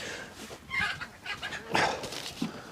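Chickens squabble in a coop, a burst of agitated clucks and squawks, moderately close, rising and falling in short bouts.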